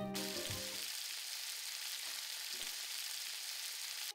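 Steady, hissing sizzle of squid frying in a hot pan, continuous throughout after a brief low hum at the start.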